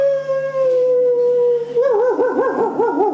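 A voice imitates a dog howling, one long loud sustained tone that breaks into a wavering, undulating howl, close and alone with no talking.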